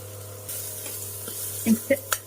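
Chillies and onion hit hot oil in a pan for sambar, giving a steady sizzle with a few short clatters near the end.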